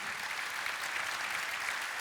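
Brief burst of dense, steady clapping from an audience, fairly loud and even throughout.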